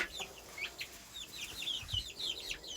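Backyard chickens cluck and chirp in short, repeated bursts, fairly close but quiet, with scattered overlapping calls from several birds and no talking.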